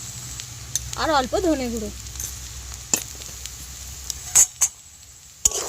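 Spices and potatoes sizzling in a pan, a soft continuous fry with a few sharp stirring knocks, under someone speaking briefly.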